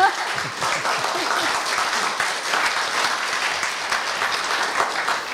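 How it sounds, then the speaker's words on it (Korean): An audience claps steadily for several seconds at a university staff retirement ceremony, a dense and even wave of applause with a faint voice underneath. "격려의 박수 부탁드립니다."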